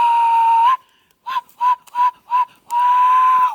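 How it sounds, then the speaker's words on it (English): A throat whistle: a steady pure tone held for under a second, then four short separate toots after a pause, and a long sustained tone to finish, loud and close with no talking. "this is a video about whistling with your throat"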